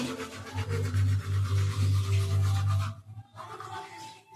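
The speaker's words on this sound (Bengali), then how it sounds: "আমার ব্রাশ করা কমপ্লিট গাইস।" A toothbrush scrubs teeth in close, steady back-and-forth strokes for about three seconds, then slows to a few softer, scattered brushing sounds.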